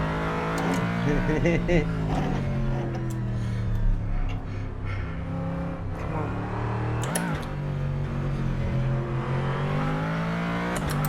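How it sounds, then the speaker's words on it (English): American and German V8 race car engines in rFactor2 on the Nordschleife drone loudly and continuously, revving and shifting, with a brief tire or gear burst midway; someone talks over the engine noise, and typing-like clicks are faintly heard. "It's now the American V8 against the German V8"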